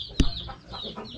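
Chickens cluck near their chicks, with one brief loud cluck up close followed by softer, scattered clucking and chirping in the background.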